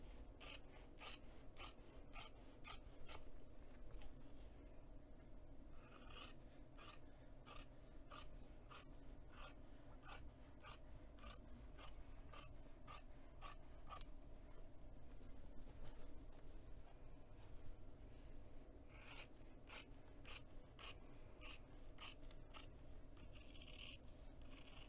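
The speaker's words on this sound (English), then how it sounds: "I'm just going to cut mine out just so it goes by a little quicker." Scissors snip repeatedly through fabric in a steady rhythm of crisp, close cuts, with brief pauses and some rustling, at a quiet level.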